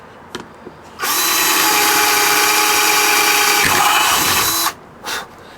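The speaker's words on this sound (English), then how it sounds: "we get the drill and we just drill a little hole" An electric drill bores a small hole into wood, whirring loudly and steadily for about four seconds, its pitch dipping briefly near the end, followed by a short second burst.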